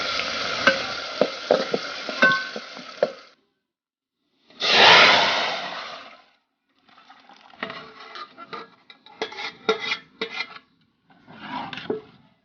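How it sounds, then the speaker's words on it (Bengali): Chopped onion and garlic sizzle in hot oil for a dal tempering, close up in a home kitchen, in bursts with stirring scrapes between short pauses. "রসুনটা একটু ভাজা হওয়ার পর আমি পেঁয়াজটা দিয়েছি।"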